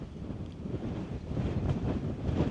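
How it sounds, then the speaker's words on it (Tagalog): Steady outdoor wind at the Hill of the Buddha in Hokkaido buffeting the microphone, a constant low rumble that swells and gusts slightly, with no talking. "Narinig niyo yung hangin. Diba? Lakas."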